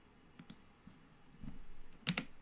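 Sharp mouse clicks while input keys are mapped in the Godot 4.3 game engine, a few isolated taps spread apart with a closer double click near the end, quiet and close.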